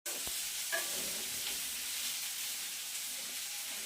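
Food cooks in a pan late at night, a steady close sizzle and hiss with a couple of faint clinks at the start, continuing evenly without talk.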